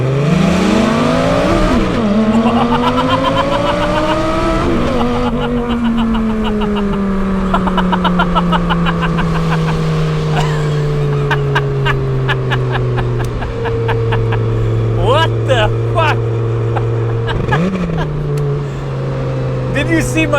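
A 2008 Lamborghini Gallardo Spider pulls hard from a roll, its loud engine note climbing steeply and dropping at each upshift, several gear changes in sequence with the roar staying close and dominant throughout.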